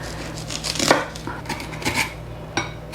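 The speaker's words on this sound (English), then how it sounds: "Also grate half of an onion." Pear and onion rubbed against a kitchen grater for a bulgogi marinade, giving soft scraping strokes with a few sharper knocks against the bowl, close and steady, with no talking.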